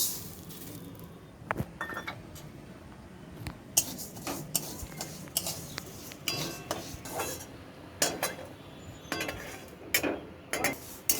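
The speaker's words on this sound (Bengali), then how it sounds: "এই কড়াই আমি ডালটাকে একটু ভেজে নেব।" Moong dal is dry-roasted in a wok, and a spatula stirs it with scattered metallic clinks and scrapes. The clinks come at irregular moments over a quiet, soft rustle, with no talk.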